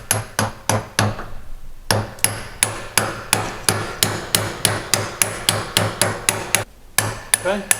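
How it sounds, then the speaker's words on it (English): A big socket tapped with a hammer drives a universal joint cup down in a vise on a propshaft, producing a rapid series of sharp metallic strikes in steady rhythm, with two short pauses, loud and close. "we're going to use a big socket to go over the top and sort of tap this down gently"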